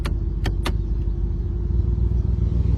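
Lamborghini Urus SUV engine started by push button: a couple of sharp clicks at the start, then the engine catches into a steady low rumbling idle close by.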